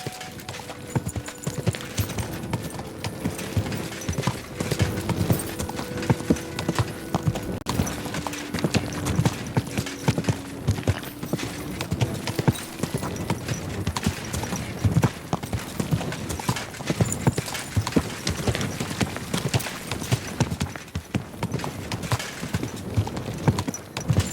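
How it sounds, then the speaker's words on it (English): Rapid hoofbeats clatter continuously as a horse gallops in the video game Kingdom Come: Deliverance II, a brief whinny rising among them, with music playing underneath. "Easy, good horse."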